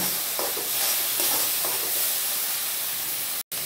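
Cashew and poppy seed paste sizzles as it is stirred and fried in a pan for a prawn malai curry, giving a continuous frying hiss with soft stirring scrapes and a brief cut near the end.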